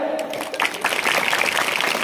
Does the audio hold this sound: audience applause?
yes